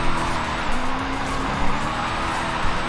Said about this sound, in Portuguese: Ver se eu descolo umas wheel spins.